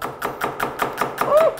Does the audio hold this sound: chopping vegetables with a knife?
yes